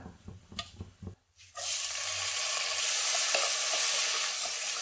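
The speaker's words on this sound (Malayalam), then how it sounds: "അരി ഒരു 2-3 മിനിറ്റ് ഒന്ന് വഴറ്റി കൊടുക്കാം." Rice sautéed with cloves, cinnamon and cardamom in hot fat for prawn biryani, giving a loud, steady sizzle that starts abruptly after a few stirring clatters and continues without pause to the end.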